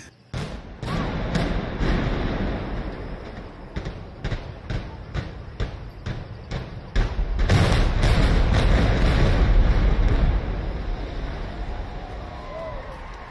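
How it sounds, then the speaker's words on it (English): A rapid series of sharp demolition explosions, booms one after another in quick succession, followed by a long, heavy rumble of a large building collapsing. "Those are the sounds of successive explosions being set off to bring down a large building"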